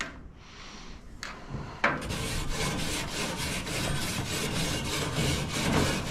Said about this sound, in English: so I'm going to scrape it